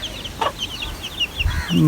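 A chicken clucks in short, quick bursts at close range, with a few soft scattered calls and a louder low cluck at the end.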